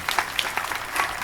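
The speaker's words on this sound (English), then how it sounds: "Why are they clapping?" Brief burst of applause from a small group, steady patter of clapping without voices.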